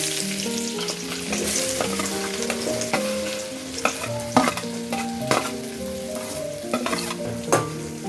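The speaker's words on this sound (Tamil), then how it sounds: "கட் பண்ணி வச்ச நட்ஸ் எல்லாமே சேர்த்தாச்சு. கொஞ்சம் லைட்டாக கோல்டன் ப்ரௌன் வர வரைக்கும் ஃப்ரை பண்ணிக்கலாம்." Chopped nuts fry in rice bran oil for a sweet bread halwa, a continuous crackling sizzle with occasional stirring knocks, all under melodic background music.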